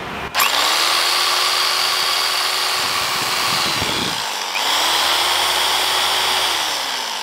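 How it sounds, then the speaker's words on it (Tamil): A power drill whirs steadily at high speed, loud and close, spinning down briefly midway before starting up again for a second long run. "ட்ரில்லிங்."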